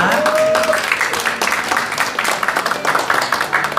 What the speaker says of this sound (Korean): 박수를 드리겠습니다